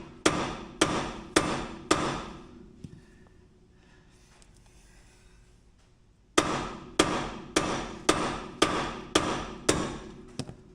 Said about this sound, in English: Now I'm going to tap the control arm with a hammer.